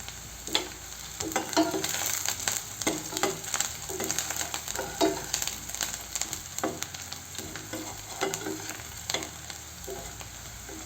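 Onions and vegetables for pav bhaji frying in a pan on the stove, a steady close sizzle broken by repeated scraping stirs with a spatula, with no one speaking.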